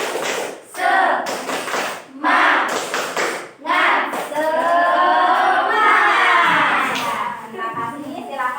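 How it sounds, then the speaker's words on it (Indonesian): A class of pupils stands and performs the 'tepuk semangat' cheer: bursts of rhythmic group clapping alternate with loud chanted children's voices. The sound is close, energetic and fills the room. "Kita tepuk semangat semuanya ya, biar belajarnya lebih semangat lagi"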